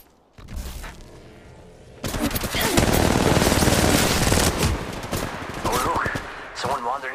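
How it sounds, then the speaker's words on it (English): Automatic gunfire in the mobile shooter Apex Legends Mobile, heard in the battle royale first-person mode. A quieter stretch gives way to loud, dense, sustained rattling bursts from about two seconds on, and brief voice fragments are heard near the end. "The enemies are shooting at me."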